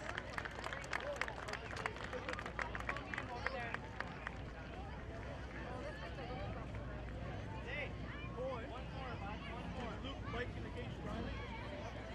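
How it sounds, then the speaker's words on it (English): Spectators at the 2017 BMX Racing Nationals in Calgary, Alberta clap for a young rider, with a scatter of crisp claps over crowd murmur that thins into general hubbub and distant voices at the track. "Huge round of applause,"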